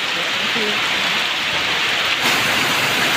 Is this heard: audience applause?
no